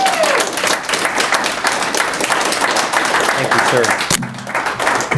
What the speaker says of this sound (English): Please, the applause.